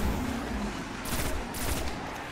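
A blue pulse rifle fires in Destiny, loud sharp shot bursts in a couple of quick clusters over constant game background noise.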